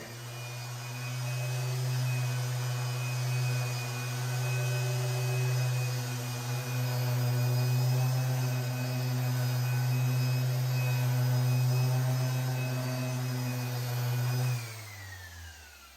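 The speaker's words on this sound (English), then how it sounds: "So that was just about 10 seconds with a 180 grit on the orbital." Orbital sander fitted with 180-grit paper working a spot on a wooden dining table, giving a steady loud whirring hum with a strong low drone that runs continuously for about fourteen seconds and then winds down and stops.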